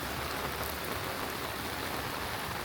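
Heavy tropical downpour in Chiang Mai, Thailand, a dense, steady hiss of rain pounding surfaces, loud and unbroken throughout with no voices.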